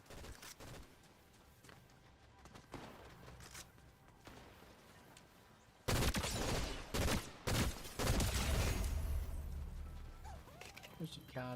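Gunfire in a Fortnite match: quiet scattered shots first, then a sudden loud burst of rapid shooting with sharp cracks, over game background noise.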